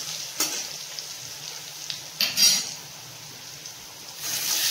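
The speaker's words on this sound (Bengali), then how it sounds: "আলুটা ভাজা ভাজা হয়ে গেছে। এবার আমি কাঁচা কলাটা দিয়ে দেবো।" Raw green plantain and potatoes fry in a pan, a steady close sizzle with a few brief bursts of hissing spatter and a stronger flare of frying toward the end, no voices.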